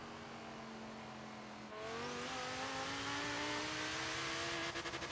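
A racing car in Forza Horizon 3 roars at full throttle, its engine note climbing steadily through a gear with a brief dip partway through, loud, continuous and close, with no talk over it.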